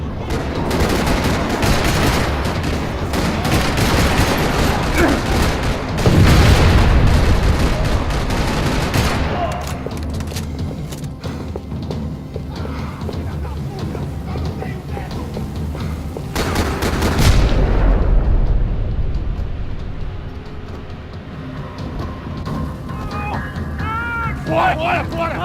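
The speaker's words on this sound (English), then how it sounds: "Another parking lot rattling with gunfire." Gunfire erupting across a parking lot in the video game Max Payne 3, dense rattling bursts and booms with swells of heavy shooting, mixed with game music and effects.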